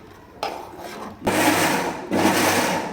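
Dal for vada is ground in a noisy grinder, running in loud continuous bursts of coarse rasping and rubbing with a brief pause between them.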